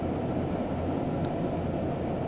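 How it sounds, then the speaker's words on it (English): A Class 421 electric train coasts with power idled through Train Simulator 2018 on the Tonbridge to Hastings line, giving a steady, moderately quiet rolling rumble of wheels on track with no breaks. "I'm going to idle the power once again and allow the train to coast"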